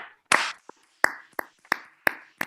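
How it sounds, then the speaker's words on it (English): Participants in an online meeting clap, heard as about six separate, sharp, close claps at uneven intervals over a few seconds rather than a sustained round of applause. "hear one big round of applause for one and only Arun Krishnamurthy"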